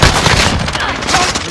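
Dense, loud gunfire in Call of Duty: Modern Warfare, a rapid burst of shots filling the whole short moment.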